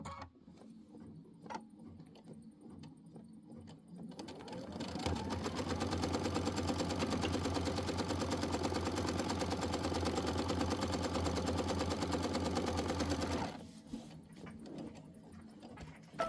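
An embroidery machine stitches a quilted pillow, its loud, steady rapid needle hum running about nine seconds after a quieter start, then stopping abruptly, with faint handling sounds before and after.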